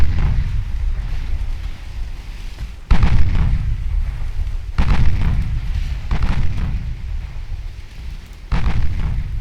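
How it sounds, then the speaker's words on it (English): Heavy booms of 4-inch naval gunfire in the Ultimate Admiral Dreadnoughts warship game, several loud rumbling blasts arriving at irregular intervals over a continuous low roar, with no talk. "Got a hit with a 4-inch gun on the light cruiser"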